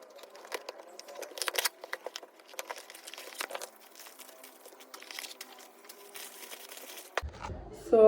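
Parcel packaging from an online shopping delivery being torn open, with close, intermittent crinkling and rustling of plastic and paper for several seconds, ending in a brief louder handling noise.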